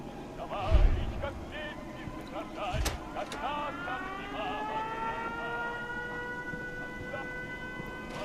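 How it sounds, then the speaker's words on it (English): A settlement defense siren in a video game, a long rising wail that climbs in pitch and holds a steady harmonic tone, loud and continuous, after a brief thump at the start. "Siren activation switch."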